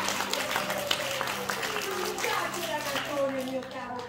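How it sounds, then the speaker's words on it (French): A theatre audience at a Molière comedy applauds a singer, with dense, continuous clapping filling the hall under loud voices and singing. "on applaudit le chanteur"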